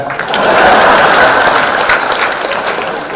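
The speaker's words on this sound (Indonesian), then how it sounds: "Tepuk tangan buat ikan." Audience applause at a halal bihalal gathering, a dense, steady wash of many hands clapping that swells quickly and holds loud for about three seconds, with no speech over it.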